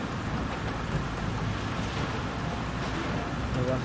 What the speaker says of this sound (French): Ah, l'orage passe.